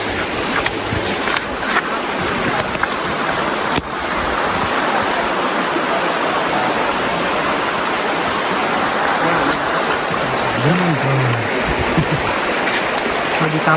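A river rushes past during a crossing on a long trek, a loud, steady broadband roar of flowing water that fills the whole stretch. A faint voice briefly surfaces near the end.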